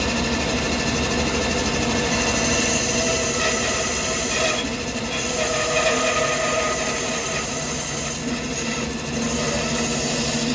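Wood lathe turning a Christmas nutcracker blank, cut with a carbide chisel: a steady, loud whirring drone with a continuous scraping texture throughout, no talking.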